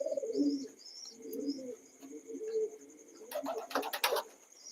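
Pigeons coo softly and repeatedly inside a loft at night, low rolling calls rising and falling, with a brief burst of sharper chirps and rustling toward the end.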